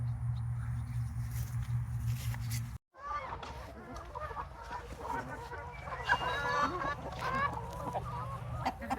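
Chickens on a farm cluck and call in their new location down the hill, several birds chattering close by in irregular bursts over a low steady hum.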